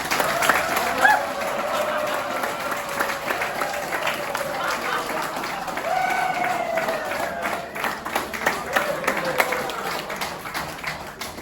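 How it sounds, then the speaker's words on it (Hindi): Applause from an audience at a talk session, a sustained wash of clapping lasting several seconds at steady moderate loudness with a voice briefly audible over it. "जोरदार ताली हो जाए भाई।"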